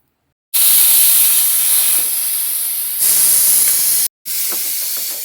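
A loud, steady hiss of escaping steam from a pressure cooker whistle while cooking dal with cucumber, running for several seconds with two short breaks.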